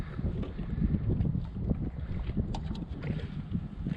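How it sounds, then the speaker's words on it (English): Cold wind buffets the microphone out on the water beside a Nucanoe Pursuit 13.5 fishing kayak in North Georgia, a steady low rumbling roar with gusty surges throughout and no talking. "Wind started blowing."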